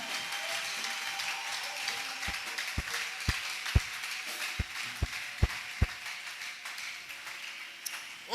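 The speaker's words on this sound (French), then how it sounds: "Tu peux acclamer pour Jésus." A church congregation at an evangelical festival service applauds with scattered sharp claps standing out over a steady wash of crowd noise, building briefly and tapering off.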